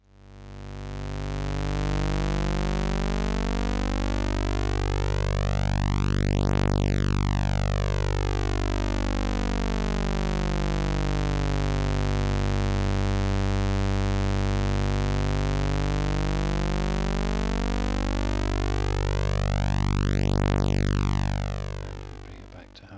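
Buzzy synthesizer tones from oscillators running freely without hard sync drift against each other, producing slow sweeping phasing and beating in the harmonics, steady and continuous with no voice.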